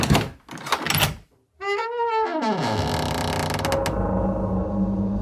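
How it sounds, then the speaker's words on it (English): A heavy metal door resisting for a moment, then swinging open, with clunking latch mechanics followed by a long, loud, groaning creak that bends downward in pitch before settling into a rattling rumble. "grabbed the metal handle and opened the door. There was just a brief instance of resistance from the door, and eventually it swung open toward him"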